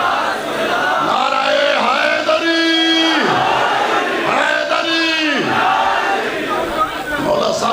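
A large crowd at a Shia majlis gathering shouts in unison, two loud call-and-response chant bursts of "Naara-e-Takbeer" and "Naara-e-Risalat" with rising, sustained voices over a noisy, reverberant background.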